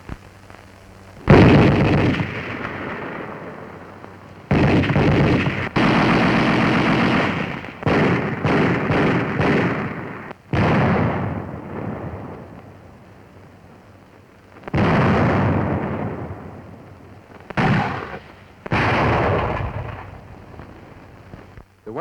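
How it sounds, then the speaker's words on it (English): Bursts of World War II infantry division weapons fire, artillery and gunfire, come in loud, separate volleys and sharp cracks with short gaps between them, some sustained and some clipped, with no voices. "you will hear the various sounds of these weapons when you are on the receiving end of their fire"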